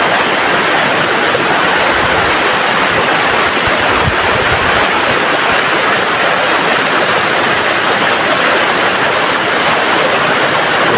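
Water from a mountain spring flowing in a clear stream, a steady loud rushing wash with no pauses, heard up close with no talking.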